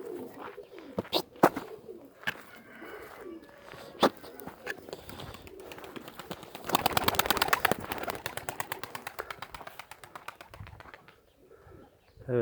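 Homing pigeons coo softly nearby, then a burst of rapid wing flapping rises in the middle as birds take off, fading back toward quiet; faint voices sit in the background.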